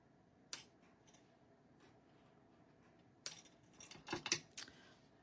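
Ribbon scissors snip off ribbon ends on a handmade greeting card, a few sharp close metallic cuts, one early and a quick cluster of snips later, with quiet pauses between.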